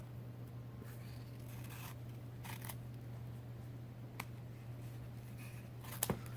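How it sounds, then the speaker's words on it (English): Scissors snip something during a button wreath craft: a few faint, sharp cuts scattered over a quiet room hum, the clearest ones near the end. "I'm just going to cut this off."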